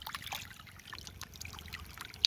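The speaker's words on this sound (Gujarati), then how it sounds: "હવે અત્યારે તો હું પાણી ખેતરમાં ચાલુ કર્યું છે" Water from a broken pipe flows into a farm field with a soft, steady trickle and light splashing, faint and fairly close, no voices.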